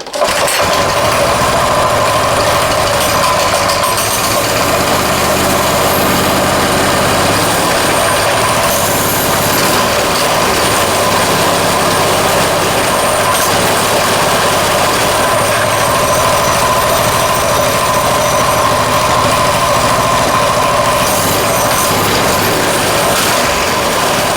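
A Coleman mini bike engine with a previously locked-up motor runs steadily and loudly at close range, a continuous buzzing small-engine drone with a rough mechanical rattle throughout.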